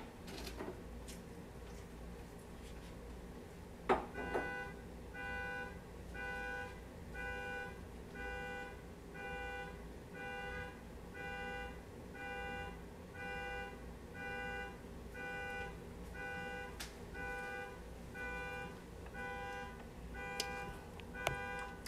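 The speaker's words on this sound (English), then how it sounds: "It's somebody car beeping." A parked car's alarm beeps outside in a steady repeating pattern of bright electronic tones, heard at a distance over a low background hum with a few sharp knocks nearby.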